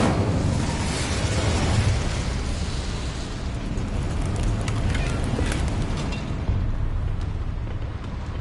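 In Hogwarts Legacy, the Incendio fire spell unleashes a loud, sustained roar of flame, a dense rushing blast with crackling texture that fills the whole stretch without pause, with no speech over it.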